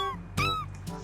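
A cat meowing in the video game The Walking Pet: two short, clear meows, the first sharp and bright, the second fainter, close and alone over a light background hum.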